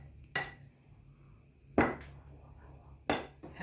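Flour and baking soda are stirred in a bowl, with three sharp, separate clinks of a utensil against the bowl, close and clear, with quiet gaps between.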